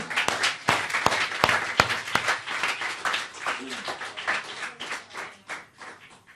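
A small group at the close of a church discipleship class claps in loose, uneven bursts, with individual sharp claps standing out and some voices mixed in.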